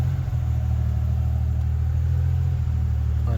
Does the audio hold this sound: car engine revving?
yes